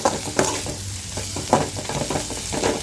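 Ponnanganni greens are stirred in a hot pan for keerai kadayal, giving loud, close scraping strokes over a constant sizzle, with no voices.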